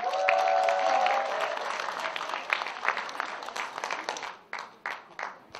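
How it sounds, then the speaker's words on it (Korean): An audience applauds traditional Korean gugak musicians at a concert, a dense wash of clapping that thins into scattered separate claps near the end, with a brief voice at the start. "큰 박수 보내주시기 바랍니다"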